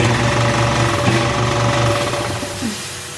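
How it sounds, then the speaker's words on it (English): An air compressor runs nearby with a loud, rapid mechanical chugging pulse, steady throughout with a slight drop near the end. "our air compressor hooked up"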